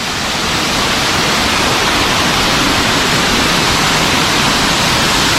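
Rani Duduma waterfall in Koraput, its water crashing down in a steady, loud, broadband roar that stays constant throughout, heard close with no voices.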